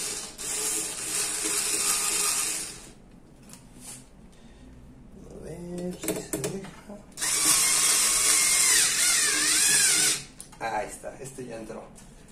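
A power tool driving screws into an electric bike hub motor during a repair, two loud sustained whirring bursts separated by quieter handling noises, close by, with someone speaking between them.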